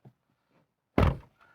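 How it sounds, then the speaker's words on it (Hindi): A Hyundai Verna BS6 petrol sedan's car door swings shut with a single solid, heavy thunk, close and loud after near silence. "दरवाजे इस गाड़ी के बंद होते हैं तब पता चलता है आप एक सॉलिड कार के अंदर बैठे हो"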